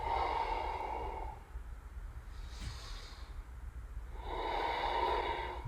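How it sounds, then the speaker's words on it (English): Slow Ujjayi breathing during a yoga practice, a long hissing exhale, a brief pause, then another drawn-out breath, close and steady with no talking. "So two more Ujjayi breaths here."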